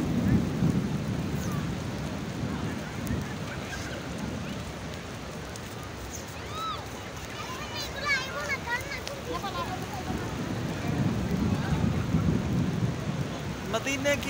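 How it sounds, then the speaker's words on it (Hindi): Rain falls in Medina with a steady patter and low thunder rumbling in long swells near the start and end, while people talk and chirpy bird-like calls cut through in the middle. "ये देखिए बारिश शुरू हो चुकी है।"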